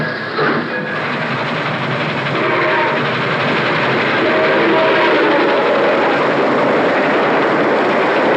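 A freight train rumbles along a railroad through open country, with a loud, continuous roar of wheels and cars passing close by and a brief horn-like tone near the start.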